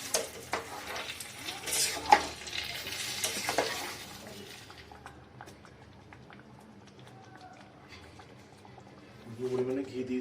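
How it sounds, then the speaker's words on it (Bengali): Vegetables frying for veg khichdi, stirred in a pan: scraping strokes and crackling sizzle, louder at first then fading to a low simmer, with a renewed burst near the end. "ছেড়ে দেওয়ার পরে আমি এটাতে আরেকবার নাড়িয়ে নেব।"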